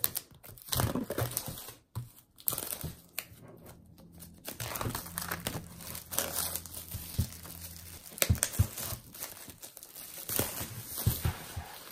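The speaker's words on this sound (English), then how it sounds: "And then this will allow me to start ripping the plastic off here." Plastic wrap being torn and peeled off a space grey 2018 Apple Mac Mini base model box, giving close crinkling and crackling bursts with brief quiet pauses over about twelve seconds.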